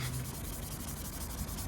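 A hand scrubs algae off a koi pond's viewing window, producing a steady, close rubbing and scraping noise with faint rhythmic strokes, continuous and without talk.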